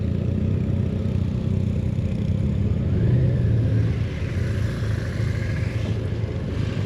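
A Honda Goldwing motorcycle pulls away at a steady, even engine drone with a continuous low rumble, riding out on a coastal road in Portugal alongside BMW R 1250 RT bikes, wind noise steady throughout and no talking.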